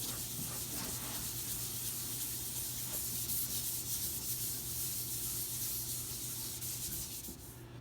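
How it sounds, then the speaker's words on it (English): Continuous close sanding of lacquer on a wooden blanket chest with 220-grit, a steady abrasive rubbing hiss with faint rhythmic strokes, no voices. "we're sanding lacquer. And I'm going to sand everywhere."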